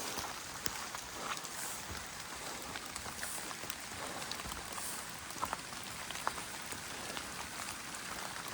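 Light rain patters steadily outdoors on the Appalachian Trail, a soft broadband hiss with scattered drop taps, fairly faint and continuous with no talking.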